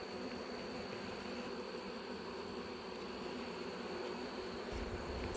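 Bees buzzing around an opened beehive during an inspection, a dense, continuous hum that stays close and steady the whole time with no voices.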